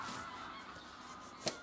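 A flock of geese calls while landing, a faint, distant chorus of honking over steady outdoor background noise, with one brief, sharper call near the end.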